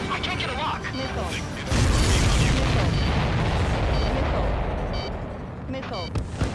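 Missile explosions in the combat flight game Ace Combat 7: loud, booming blasts and rumbling bursts roll in over a continuous roar, with a heavy detonation near the two-second mark and sharper pops later.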